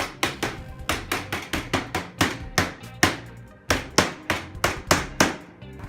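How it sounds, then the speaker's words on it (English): Mallet pounding a panel into place while installing a cassette toilet in a truck camper, about twenty sharp, close blows in quick uneven bursts with short pauses, loud and without talk. "we're going to pound it in with the mallet and it should hold the panel in"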